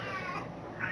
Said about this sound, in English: if you hear my cat in the background,